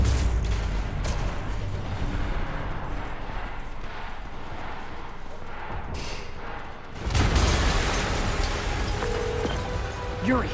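Explosions in the video game Marvel's Spider-Man Remastered, a sustained rumbling roar that drops briefly and then surges again in a second loud burst, with scattered crackling debris.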